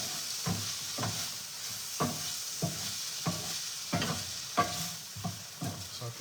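Pork medallions in gravy in a pan, a quiet bubbling simmer broken by repeated spoon stirs and scrapes about once a second, close and fairly soft.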